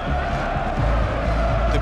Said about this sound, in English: The crowd, the sound was deafening throughout.